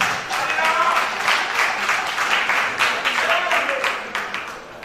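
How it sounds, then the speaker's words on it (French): Audience applause after a rumba performance, a dense burst of many hands clapping that holds steady for several seconds, then thins out and fades at the end. "Applaudissez pour lui."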